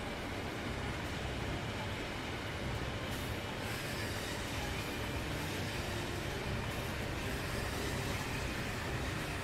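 A passenger train in the game Transport Fever rolls into a station with a continuous loud rumble of wheels and carriages and faint squeals, steady throughout with no pauses.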